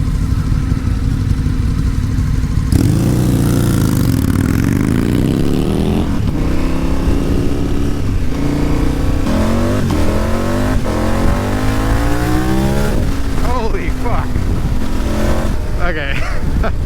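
KTM 1290 Super Adventure R motorcycle accelerating on a highway, its loud engine revving up repeatedly through the gears with rising pitch over a constant roar of wind.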